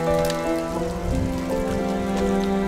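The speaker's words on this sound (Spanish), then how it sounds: "Caminar con la lluvia a veces tiene su encanto" Steady rain falls along the Camino del Norte on the Gijón to Avilés stage, a dense continuous patter that stays even and close throughout, with a few sustained tonal hums running beneath it and no voices.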